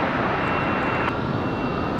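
An AeroMexico Airbus airliner arriving at Raleigh Durham airport on a windy day, a steady broadband engine roar that stays loud and constant throughout, with no talk over it.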